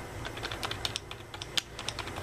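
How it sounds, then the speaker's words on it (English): Fingers tap quickly on the keys of an Etekcity Scroll K9500 gaming keyboard, a close, quiet run of crisp irregular clicks with no voice. "the keys feel really responsive and very good"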